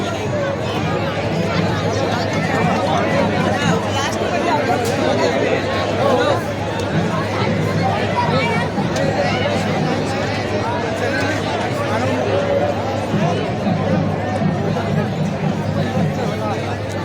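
Steady crowd hubbub at a Jaipur army gathering, many voices chattering at once in a loud, unbroken wash of overlapping speech.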